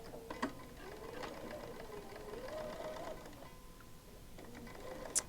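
A sewing machine stitching quilt pieces, a faint steady mechanical whirr with a light rapid ticking rhythm over a few seconds, quiet and alone with no talk.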